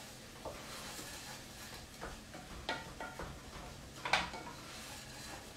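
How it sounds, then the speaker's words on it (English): A spoon stirs red lentils into soup in a pot, with a soft ongoing sizzle and several distinct scraping, clinking strokes against the pot at irregular intervals. "give it a stir"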